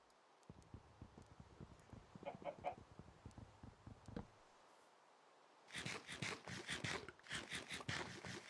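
Blocky Minecraft chickens cluck in short bursts, first a sparse run of soft pecking clucks with a few brighter squawks, then after a brief lull a denser, louder flurry of rapid clucking close by.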